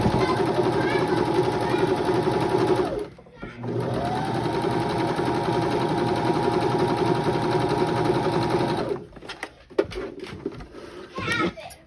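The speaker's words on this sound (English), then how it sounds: "now we're going to top stitch down here so it doesn't flap while you're wearing it." A sewing machine top stitches a fabric face mask, running in a steady, loud, continuous whir that pauses briefly near three seconds, then stops around nine seconds with some handling noises after.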